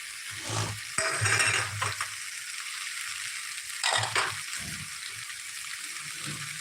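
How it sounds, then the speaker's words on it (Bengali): Potato curry with raw chickpeas being stirred in a pan, spoon scraping in short bursts over a steady background sizzle, close and moderately loud. "জলটা দেওয়ার আগে আরেকবার একটু নাড়াচাড়া করে নিই"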